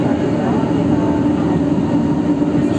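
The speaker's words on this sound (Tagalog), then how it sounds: "pababa na naman yung release ng train na ito, Martin." An MRT train in Manila rumbles past steadily with a broad, heavy low drone that holds at a constant loud level throughout, without clear breaks.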